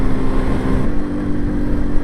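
A 1984 MZ TS125 two-stroke motorcycle revving past 6,000 rpm in fourth gear on a country road, a loud buzzing engine note that holds steady and then shifts slightly in pitch partway through, with no talking.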